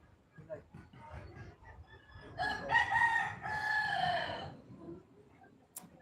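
A rooster crows once in a loud, drawn-out call near a hut, preceded by faint clucking and background murmur, the crow dominating the middle of the clip.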